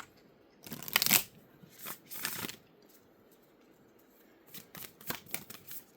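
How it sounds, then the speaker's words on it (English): A deck of Moonology oracle cards being shuffled up close, two quick riffling bursts followed by a pause and then a run of softer, rapid card flicks, with no talking. "let's go ahead and pull a Moonology card to get your reading started"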